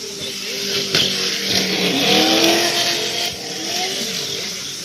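RC short course truck motor winding up and down close by, with whining rises and falls across several seconds over a steady background hiss.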